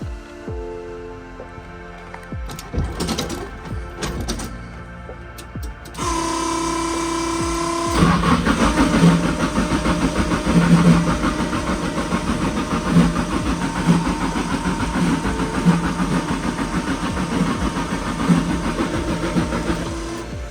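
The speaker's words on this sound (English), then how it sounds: "let's see a cold start on this thing" A Datsun engine running on E85 fuel cold-starts: a few seconds of cranking and clatter, then it catches at about six seconds and settles into a loud, rough, uneven idle that carries steadily to the end.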